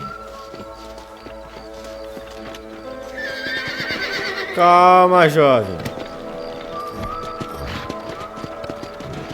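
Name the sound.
horses neighing and hooves, from a video game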